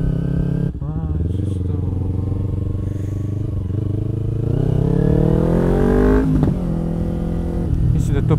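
A motorcycle is ridden on a city street, its engine revving and climbing in pitch through repeated accelerations, loud and close, with some rattling clatter.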